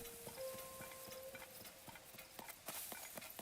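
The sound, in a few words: horse hooves clip-clopping in a video game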